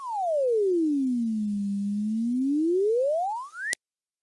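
A graphing calculator sonifies the x squared parabola as one smooth continuous tone that glides down, levels out low in the middle, then rises back up over about four seconds before a brief click ends it.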